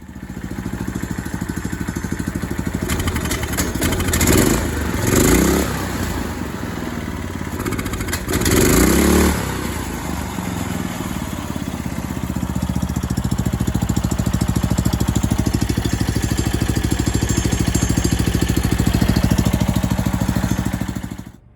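A 459cc Predator engine on a Spider Box Yerfdog go-kart runs steadily close by with a loud, throbbing mid-pitched drone, with a few brief revs and clattering bursts early on before it settles.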